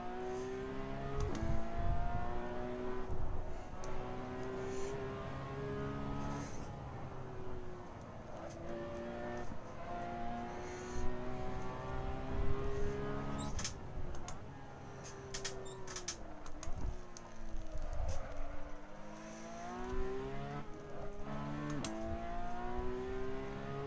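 Race car engine in Assetto Corsa, a continuous loud drone that rises and falls through gear changes while driving on track, with no voices.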